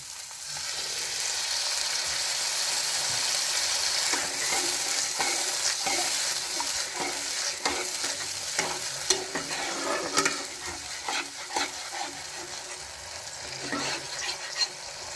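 Water poured onto fried spice paste for a bhetki fish kalia bursts into a loud hissing sizzle, then settles into bubbling as the pan is stirred with irregular scraping knocks.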